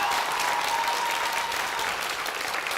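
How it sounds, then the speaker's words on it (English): Commencement audience at Manchester Community College's 51st annual ceremony applauding graduates' supporters, a steady dense wash of clapping from a large crowd throughout, loud and continuous with no talk. "give a round of applause to your spouses, your significant others, your family and friends, and anyone who supported you"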